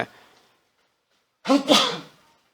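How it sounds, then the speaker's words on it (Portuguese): A single loud sneeze bursts out after a faint murmur and near silence, close to the listener and sharp. "deu a vontade de espirrar agora aqui"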